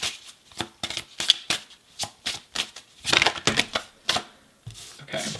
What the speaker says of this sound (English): So we're gonna get you some self-love oracle cards real quick